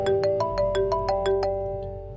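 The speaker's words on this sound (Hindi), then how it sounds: "अब किसका फोन आ गया यार?" A mobile phone ringtone rings in a home, a bright repeating melody of evenly spaced tones, close and clear, fading slightly toward the end with no talk over it.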